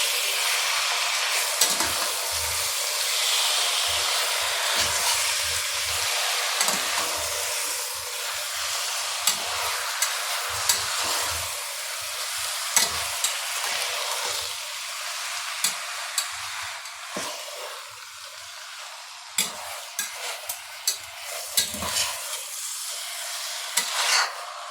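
Chicken frying in one pot for biryani, with a continuous loud sizzle and a spoon scraping and stirring the pan in repeated sharp clinks throughout.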